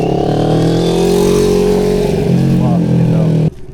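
On a London street a motorcycle roars past close by with a loud revving engine whose pitch slides down as it goes, then cuts off abruptly near the end; people's voices are mixed in.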